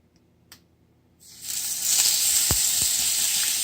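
Blueberry pancake batter is poured onto a hot skillet greased with cooking spray and breaks into a loud, steady sizzle after a quiet start, with a couple of faint clinks under the hiss.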